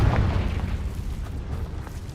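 A Confringo fire spell detonates in Hogwarts Legacy, a deep booming blast up front that rolls into a low rumbling tail lasting a couple of seconds, with no voices.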